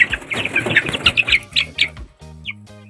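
Month-old chicks peep in a rapid run of high, bright calls through the first two seconds, close by, with a lower rhythmic mechanical pulse underneath toward the end.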